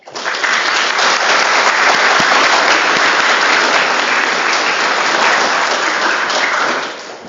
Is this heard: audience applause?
yes